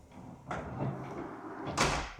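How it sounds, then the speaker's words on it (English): A soft-close pocket door in a cabin slides along its track, a quiet rolling swish followed by a brief muffled thud as it settles shut, fairly faint and close. "you have a soft close pocket door"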